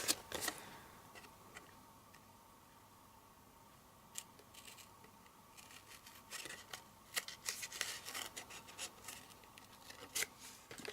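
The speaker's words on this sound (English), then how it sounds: "you just have to use your scissors and help it along and cut through there" Scissors snip through a paper label in a quiet room, with a few faint cuts at first, then a busier run of short crisp snips and rustles toward the end.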